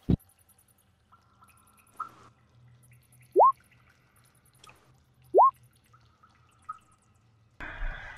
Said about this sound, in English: you do hear a trickling of water